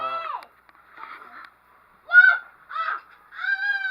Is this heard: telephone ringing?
no